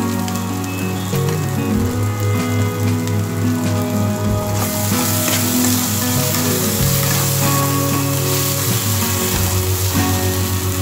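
Masala spice paste fries in a pan while being stirred, with a steady loud sizzle and occasional scraping stirs, heard alone without speech.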